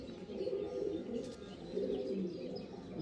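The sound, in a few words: Andhra pigeon cooing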